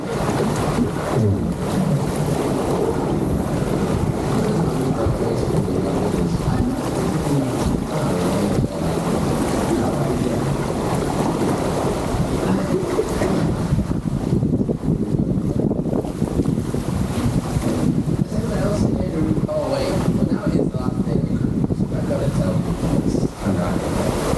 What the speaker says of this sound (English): It was a very windy day this day when I went down the water slides.